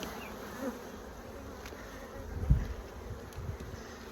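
Honeybees buzz during a beehive inspection, a faint, low, steady hum with a few soft bumps and knocks close by.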